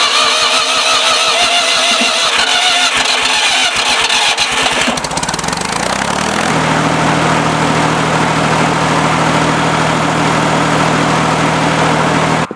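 A Ford 3000 tractor engine cranks with a rapid chugging starter rhythm for several seconds, then catches and settles into a loud, steady close-up idle rumble.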